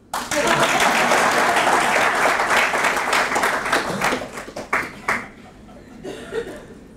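Lecture audience bursts into loud applause, dense clapping that holds for several seconds and then thins into scattered claps and a few chuckles.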